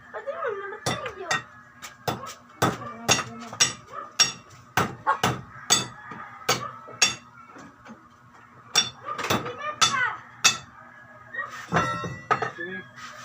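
A hammer striking repeatedly, sharp metallic clanks in an irregular rhythm, close and fairly loud, with a steady background hum and a few other clinks.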